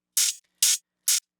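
Hi-hat drum sample for a trance track, with EQ cutting the low end: three short, bright, hissy hits spaced evenly about half a second apart, each decaying quickly into silence.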